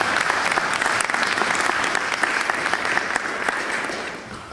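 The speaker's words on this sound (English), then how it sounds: "let's give him another round of applause for being here." Audience applause fills a talk in a mentoring speaker series, steady and dense clapping from a sizable crowd sustained throughout and tapering slightly at the end.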